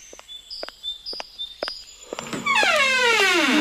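A person's drawn-out yawn, a rising then slowly falling voiced groan that follows a few short clicks and brief high tones.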